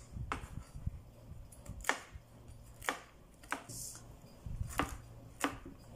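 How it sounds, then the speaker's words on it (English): Walnuts are chopped with a knife on a board in a steady series of sharp, close, crisp chops, about a dozen strikes at an uneven pace, with no voices. "Now I'm gonna start chopping my walnuts."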